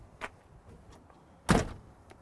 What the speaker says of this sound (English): I'm actually going to shut this door.